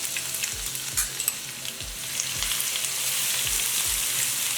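Crushed garlic paste sizzles hard in oil with mustard seeds and cumin for tomato dal sambar, a loud continuous crackle broken by a few low thumps of stirring early on, with no talk.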